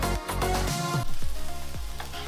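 Chicken browning on a Weber Q barbecue grill, a steady close, loud sizzle and crackle of fat with a few sputtering pops and no talking.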